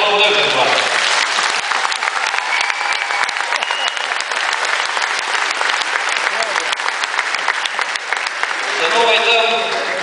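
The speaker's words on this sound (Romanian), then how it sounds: "Tot să-i aplaudăm pentru asta." Sustained loud applause from an audience at a political speech by a politician, a dense roll of clapping that runs for most of ten seconds, with the speaker's voice heard briefly at the start and again at the end.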